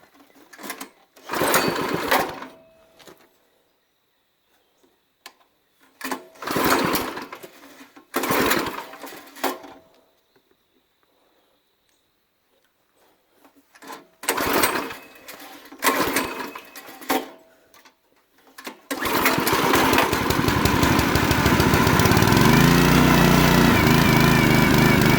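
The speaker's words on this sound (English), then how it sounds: "It's a Predator 212cc motor from Harbor Freight. Put gas in it and let's fire it up and see if she will start." A Predator 212cc Harbor Freight engine on a log splitter is pulled over in several short bursts of cranking, then catches and runs at a loud, steady roar for the last several seconds.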